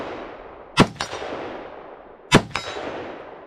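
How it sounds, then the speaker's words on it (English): Foxtrot Mike .223 Wylde rifle fires its last rounds at an outdoor range: two sharp, loud shots about a second and a half apart, each with a ringing metallic clang of steel targets and a fading echo. "we got a couple of rounds left, so let's just fire it off"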